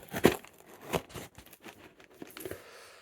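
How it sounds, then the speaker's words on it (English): Cardboard packaging for a balisong being cut and torn open, a sequence of crisp ripping and crinkling bursts, the loudest at the start and smaller tears following irregularly. "Did I just cut the cardboard?"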